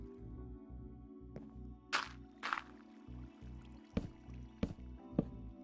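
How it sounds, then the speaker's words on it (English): Water fills a reservoir in the Minecraft modpack Age of Engineering, giving a soft, quiet splashing and gurgling sound in several short bursts over a low background hum, with no voices. "fill this with water, and we will fill our reservoir"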